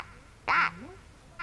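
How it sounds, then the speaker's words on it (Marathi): A duck gives a single loud, nasal quack, short and near. Faint background hum comes before and after, and a second call starts to sound at the very end. "वाटेत त्यांना भेटलं एक बदक."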